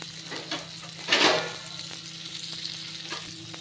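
Stuffed ridge gourd roasting in a little oil in a pan, a steady close sizzle with a louder stirring scrape in the middle and soft utensil taps.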